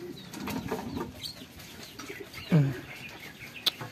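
A racing pigeon held in the hand gives a short, low coo partway through, amid soft rustling and handling noises and a quiet background with a faint chirp.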